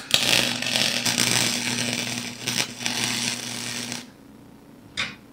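A flux core welder tack welds a DIY luggage rack for a Suzuki V-Strom 650, giving a loud, harsh crackling hiss for about four seconds, then a brief second burst after a pause.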